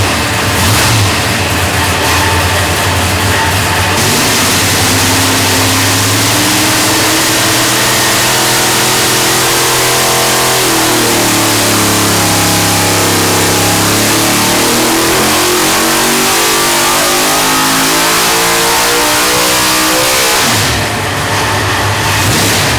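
Big block engine in a mud bogging truck roaring loudly through a long pull, pitch climbing and sagging as the revs rise and fall, then dropping back near the end.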